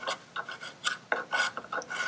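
A hand knife carves and bevels the edge of a rustic wooden cutting board, giving short scraping, rasping strokes in an uneven rhythm, close up and fairly quiet, with no talking.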